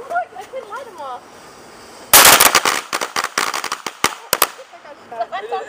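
Firecrackers burst at a backyard fireworks gathering, starting with a loud sudden crack and continuing as a rapid, irregular string of sharp pops. Before the bursts, people can be heard talking and calling out.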